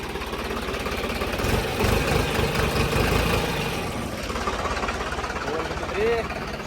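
A tractor engine chugs nearby with a rhythmic knocking pulse, running steadily under a voice.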